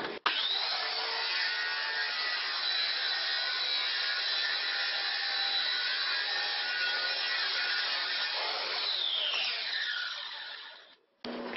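A circular saw with an old, worn blade rips through plywood along a clamped guide. It makes one steady, loud cutting whine for about ten seconds, then winds down and stops near the end.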